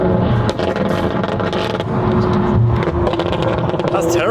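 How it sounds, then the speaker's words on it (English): A Ferrari 599 drives hard with its engine roaring loudly and continuously up close, its pitch rising and falling through gear changes, with people talking over it. "The 599 is such a rowdy car."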